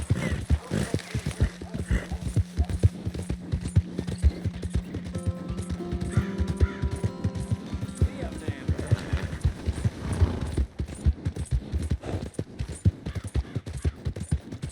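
Horse hooves clip-clop in rhythm in the Red Dead Redemption 2 video game, mid-close with a brief whinny, while someone talks over them for much of the time.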